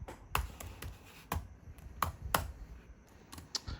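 Someone types one-handed on a computer keyboard, producing sparse, irregular single key clicks, quiet and close with no talking.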